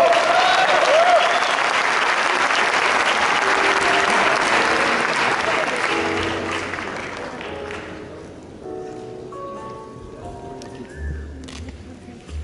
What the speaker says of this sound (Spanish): Pedimos, por supuesto, un fuerte aplauso a cada uno de ustedes por este gran logro, a Juan Carlos Aguilar Martínez.